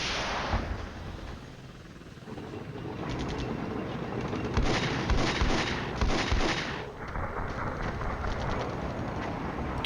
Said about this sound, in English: And he's barraging.